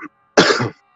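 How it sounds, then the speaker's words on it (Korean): A single sharp cough from a person, close and loud, following a brief soft vocal sound, then silence. "기침 나올 것 같아서"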